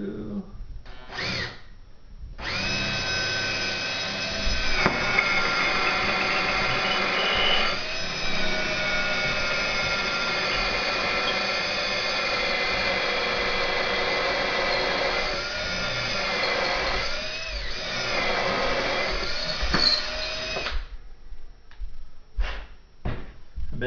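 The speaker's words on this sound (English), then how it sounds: "Drill it through." A power drill whines steadily for about twenty seconds as it bores through a wooden sprinkler block, with a brief start-up burst and some pitch wobble near the end.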